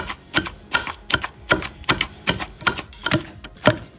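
Jujube fruit being pounded with jaggery for ilandhai vadai, a steady run of sharp, evenly spaced thuds, about two per second, close and fairly loud with no voices.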